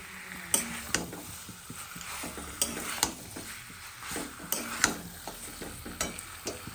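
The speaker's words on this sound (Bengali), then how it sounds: "মাংসের সাথে মশলাটা ভালো করে কষিয়ে দেবো" Mutton sizzling in a pan with spices, stirred with a utensil that scrapes and clinks against the metal at an irregular pace, all close by with no voices.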